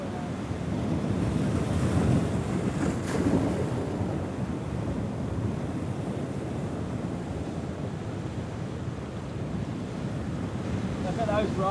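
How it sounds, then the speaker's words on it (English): Big ocean rollers surge and break on a shoreline at sunrise, a loud continuous rumbling wash of surf with heavy wind buffeting the microphone throughout. "Look at those rollers. Oh, it's a big one."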